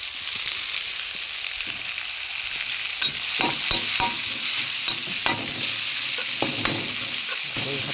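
Pork stomach with holy basil is stir-fried over high heat. A loud, continuous sizzle carries brisk, rhythmic clanks and scrapes of a spatula against the pan.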